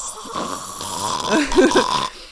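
Snoring comes through as a close, rasping, breathy rumble that swells and rattles toward the middle, with a voice faintly underneath.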